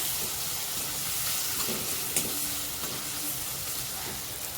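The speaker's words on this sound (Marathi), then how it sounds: "सर्व मसाले एक मिनटं परतून घ्यायचे आपल्याला" Chili powder, homemade Malvani masala and garam masala sauté in hot oil for sprouted green moong usal, giving a steady close frying hiss with faint stirring scrapes and one brief sharper clink midway.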